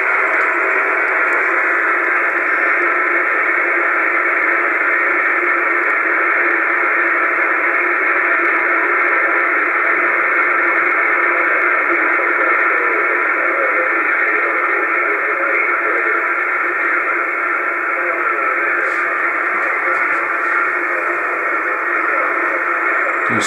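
Faint radio station received on an R3PIN anti-noise antenna, buried under a steady, loud hiss of static that runs unbroken throughout with no clear voice emerging.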